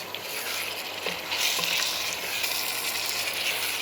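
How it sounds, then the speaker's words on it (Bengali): Chicken with ginger paste, spices and whole green chilies sautéing in a pan, with a steady close sizzle and a few soft stirring scrapes. "মাংসের কালারটা চেঞ্জ হওয়া পর্যন্ত এবং মশলার কাঁচা গন্ধ যাওয়া পর্যন্ত আমি এটা এইভাবেই আস্তে আস্তে কষিয়ে নেব"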